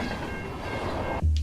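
Train crashing in a Final Destination movie scene, a dense rolling rumble with wheel clatter building steadily, then a sudden heavy low boom as the impact hits, loud, no talk.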